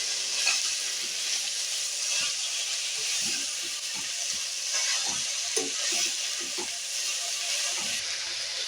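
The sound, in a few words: arai keerai greens cooking in a pan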